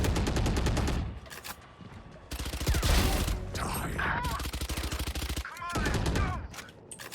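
Video game gunfire in a multiplayer shooter, rapid automatic bursts and fusillades in several stretches with brief gaps, loud and close, with a voice talking at times.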